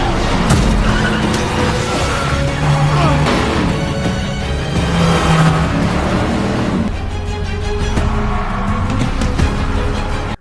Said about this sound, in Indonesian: Mobil yang baru datang itu sekarang mencoba mencelakai mobil Usman.